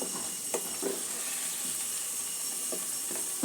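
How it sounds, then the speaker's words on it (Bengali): Potato pieces fry in a pan of oil until light brown for a Bengali mutton curry, producing a soft, fairly quiet continuous sizzle. A few light scraping taps from stirring pop up now and then. "একটু হালকা ব্রাউন কালার পর্যন্ত আলুটা আমি ভেজে নেব"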